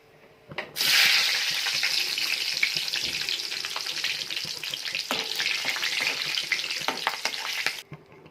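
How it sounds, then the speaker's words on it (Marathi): Green chillies fry in hot oil already used for sweet corn fritters. A strong, close sizzle bursts in just under a second into the clip, holds steady with crackles for about seven seconds, then stops abruptly. "या तेलात आपण आता मिरच्या तळणार आहे"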